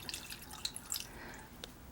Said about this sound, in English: So I'm just going to cover it with water.